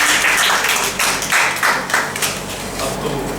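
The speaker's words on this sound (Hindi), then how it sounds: "तालियां तालियां। अपने लिए।" A quiz show audience breaks into sustained applause, a dense patter of many hands clapping close by for several seconds before thinning slightly at the end.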